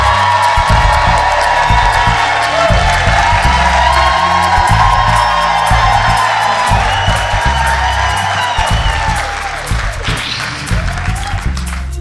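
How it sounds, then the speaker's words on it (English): A theatre audience at a live storytelling show breaks into sustained, loud applause mixed with cheers and whoops, steady throughout and tapering slightly near the end. "put your hands together with a big round of applause for"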